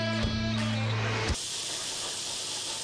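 A desktop waterjet cutter slices through a hunk of raw steak, giving a steady, loud high-pressure hiss; a tonal whine at the start cuts off after about a second, leaving the broad spray alone.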